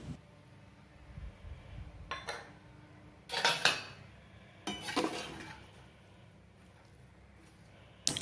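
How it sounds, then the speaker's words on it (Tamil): A spatula clinks and scrapes against a pan while egg fried rice is stirred, in several short metallic bursts separated by quiet stretches, close and fairly soft. "இப்போ இதை நல்லா நாம் கிண்டி விட போகிறோம்."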